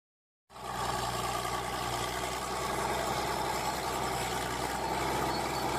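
A JCB excavator engine kicks in after a moment of silence and keeps running with a steady, moderately quiet rumbling drone, with no talk over it.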